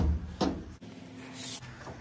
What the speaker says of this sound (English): The lid comes out.